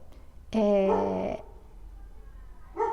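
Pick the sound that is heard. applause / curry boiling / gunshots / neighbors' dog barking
neighbors' dog barking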